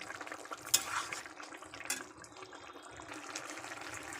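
Fried fish being stirred into gravy in a pan, a soft continuous wet scraping and sizzling with a couple of sharper clinks of the utensil against the pan, steady and close with no voices.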